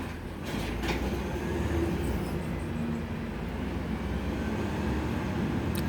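Garbage truck outside on trash day gives a continuous low engine rumble with rolling mechanical clatter, moderately loud and steady throughout.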